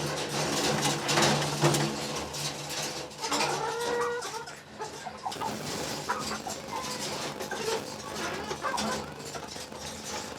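Hens on a farm cluck and chirp intermittently while being fed calcium-rich grain, mixed with background voices and rustling, including a hen with injured legs sitting among them.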